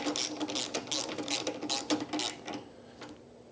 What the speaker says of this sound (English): I'm going to grab a ratchet to tighten those up with.